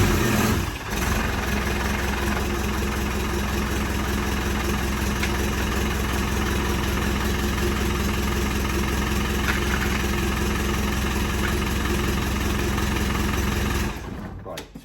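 Engine idling steadily after a new starter motor was fitted, running without an exhaust, a loud, close, even rumble that holds for most of the clip before cutting off near the end.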